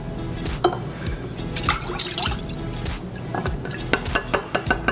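Silk soy milk pours into a cup close up, a gurgling liquid stream with sharp splashes and clinks, ending in a run of quick drips, with no talking.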